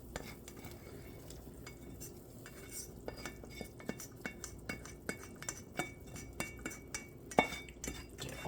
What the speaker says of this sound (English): Let's put the stir-fry into the soup.